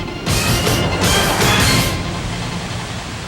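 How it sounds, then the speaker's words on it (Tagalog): Heavy rain pours down over Manila during flooding near City Hall, a dense steady hiss and roar that swells in the first seconds and then settles into a softer continuous wash. "umuulan pa rin nga hanggang ngayon dito sa lungsod ng Maynila"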